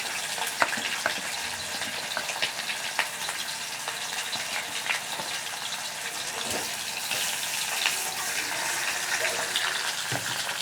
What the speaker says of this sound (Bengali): তেল আমি মাছের মাথাটা দিয়ে দিলাম।